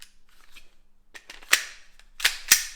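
Umarex Glock Gen 4 CO2 pistol fired outdoors in cold weather: three sharp snapping shots, close and loud, with faint clicks between them and no speech.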